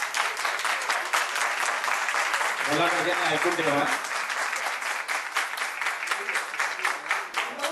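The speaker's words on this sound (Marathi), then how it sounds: "या होत्या मुलीकडच्या टाळ्या" Bride's-side guests at a traditional engagement ceremony keep up loud, continuous clapping, with someone speaking briefly over the applause partway through before it carries on strongly.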